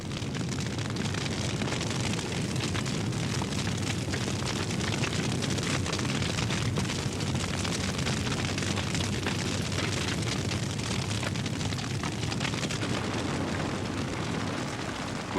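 A forest fire burns through tall lodgepole pines in Yellowstone, with trees flashing into flame. It makes a continuous, loud, dense roar with crackling and bursting throughout and no pauses.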